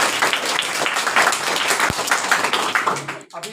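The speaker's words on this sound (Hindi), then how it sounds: "तो इनके लिए तालियां हो जाए एक बार" A classroom of young children breaks into lively applause, dense overlapping claps that sustain for about three seconds before tapering off, with a few voices mixed in.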